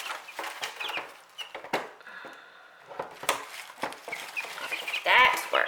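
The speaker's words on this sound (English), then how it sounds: "So I have my chickies here." Chickens cluck and scratch around at close range, with short clucks and rustling scattered throughout and a sharp higher call near the end, with someone talking nearby.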